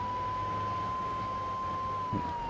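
Wailing fire engine siren in Grand Theft Auto III, a steady sustained tone held continuously at moderate loudness over low engine rumble, with a brief thump near the end.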